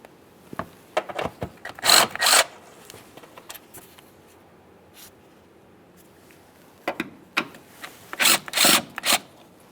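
A plastic front fender liner is pried loose from the bumper cover on a 2013-2020 Ford Fusion, giving two clusters of short, sharp scraping and rubbing bursts separated by a quiet pause.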